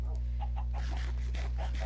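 Chickens clucking on a Minecraft survival chicken farm, a short series of soft, evenly spaced game clucks heard over a constant low electrical hum.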